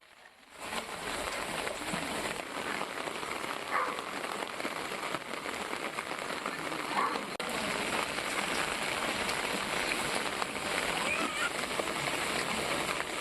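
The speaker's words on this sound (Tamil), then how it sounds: "விட்டு விட்டு கனமழை பெய்து வருவதன் காரணமாக" Heavy rain pours steadily over a road in Rameswaram, a dense, continuous hiss of drops striking surfaces that starts after a brief quiet moment and holds evenly throughout, with no voices.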